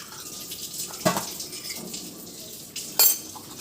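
Tap water splashes steadily into a sink as dishes and cutlery are rinsed, with sharper clinks of utensils now and then against the continuous flow, fairly close.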